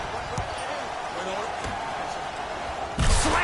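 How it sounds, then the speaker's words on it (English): A slam dunk by Antetokounmpo in a basketball video game, a sharp loud impact near the end following a steady stretch of arena noise and commentary voices. "Slams it down."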